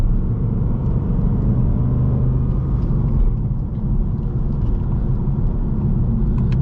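Deep, steady rumble of a 2019 Ford Mustang Bullitt's engine in track mode, a 6-speed manual, heard from inside the car as a loud, continuous low drone with no talking.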